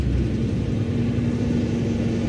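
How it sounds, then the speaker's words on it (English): A loud truck rumbles past close by, a heavy continuous low engine roar with a steady drone that fills the short stretch with no talking. "That was a loud truck."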